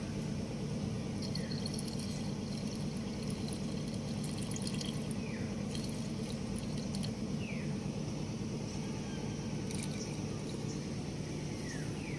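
Water pours steadily into a HOWO 380 truck battery, a continuous splashing trickle with occasional drips, close and fairly loud, no voices.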